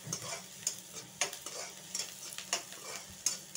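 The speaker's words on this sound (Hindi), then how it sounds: "जब तक भूनेंगे जब तक ये अच्छी तरह से सुनहरा ना हो जाए, यानी गोल्डन ब्राउन ना हो जाए" Chili, onion and garlic sizzle in a pan with scraping stirs and clinks of a utensil, a moderate, steady frying hiss with no talking.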